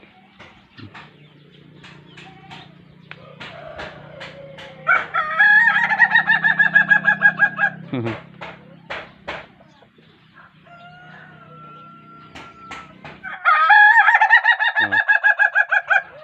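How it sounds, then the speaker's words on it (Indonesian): A laughing chicken (ayam ketawa) rooster crows loudly nearby in long, drawn-out, cackling bursts that sound almost like laughter, with hens clucking and a voice briefly speaking in the background, in a rural village. "Tuh, ada ayam ketawa"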